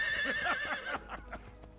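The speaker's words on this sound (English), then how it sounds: "you can actually ride the horses around the cities and everything, which I think the game like immediately shows you right here" A horse whinnies in Assassin's Creed Brotherhood, a clear descending neigh up close, followed by a few hoof clops.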